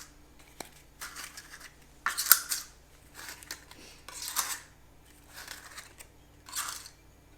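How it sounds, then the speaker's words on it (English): Paper cupcake liners rustle and crinkle in several short bursts as they are pressed into a cupcake pan one after another, close and fairly quiet, with no talking. "the first thing you do is fill your cupcake pan with the paper liners"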